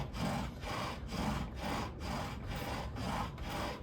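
Rhythmic back-and-forth friction of a bow drill spinning a crape myrtle spindle in a wooden notch, about seven even strokes, close and steady with no voices.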